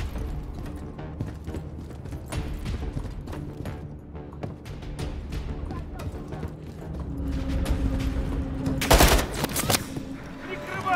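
Enemy gunfire in Call of Duty Modern Warfare 3: rapid, continuous bursts of rattling shots with tense background music, building toward a loud, sharp blast near the end.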